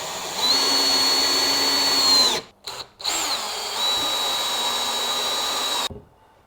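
Power drill driving stainless steel screws into a plywood barn owl nest box, a loud steady whine running for about two seconds, a brief stop-start burst, then another long sustained run before cutting off.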